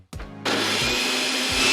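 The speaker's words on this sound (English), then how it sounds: "I've even got a remote for my blender." Blender running at close range: a loud, steady motorized whirring and grinding that kicks in suddenly and stays at full strength, with a brief lower start just before it and no talking.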